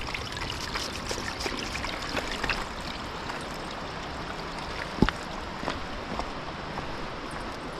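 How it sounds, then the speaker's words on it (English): Mountain water flows across a forest trail in wet, snowy conditions, a soft steady trickle heard quietly and continuously, with one sharp brief tap partway through. "There's definitely less water flowing across the trail than I expected with these wet conditions."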